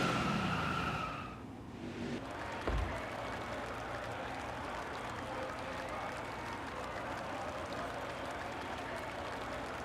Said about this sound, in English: We are in victory lane doing burnouts, which you love to see it.